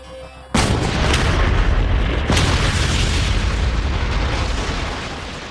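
An AST weapon fires from a test rig in a live assessment test, giving a sudden, very loud boom with a second blast soon after. Both are followed by a long, roaring rumble that slowly fades.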